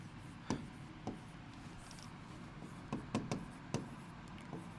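Pen or marker writing a word on a board during a vocabulary lesson, with a series of faint scattered taps and short scratchy strokes in a quiet room and no voice over them.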